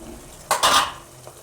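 A spoon stirs spices into chickpeas in a pan for chole, making one short, loud scraping sweep against the metal with a faint scrape after it. Nothing else is heard.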